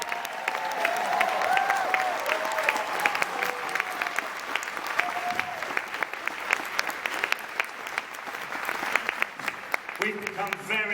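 Sustained audience applause at a Q&A following a film screening, dense clapping from a crowd across the whole stretch, with a few whoops and voices mixed in.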